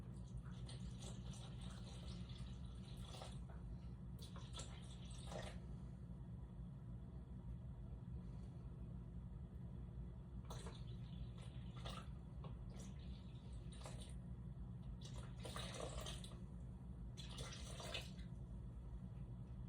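Water pours into a bowl set on a kitchen scale for sourdough bread dough, a faint trickling and splashing in short bursts over a steady low rumble of room noise, with no talking.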